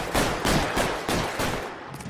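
Gunfire in L.A. Noire on PC: a rapid string of loud, close gunshots, roughly five bursts in two seconds, each blast ringing into the next.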